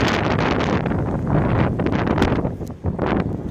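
Storm wind gusts hard near Jeddah airport, roaring and buffeting the microphone in loud, close, uneven surges with no speech.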